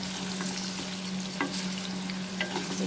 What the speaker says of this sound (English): fry these paneer pieces